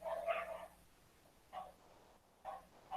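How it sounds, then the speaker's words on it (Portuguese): Dogs bark at a distance in three short bursts, one longer at the start and two brief ones later, faint against a quiet indoor room. "Eu só estou escutando o latido dos meus cachorros."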